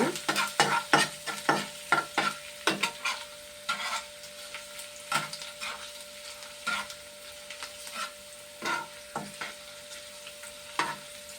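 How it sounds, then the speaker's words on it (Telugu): Ginger pieces fry in a pan as a spatula stirs them, repeated scraping strokes over a soft sizzle with a faint steady hum behind, no speech. "ఇంకండి అల్లం ముక్కలు వేస్తున్నాను."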